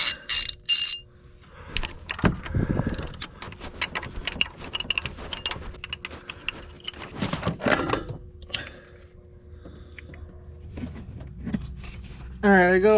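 A hand ratchet backs bolts out of the high pressure oil pump on a Ford F-350 truck engine, giving close, intermittent bursts of rapid clicking with pauses between them and a voice talking over parts of it.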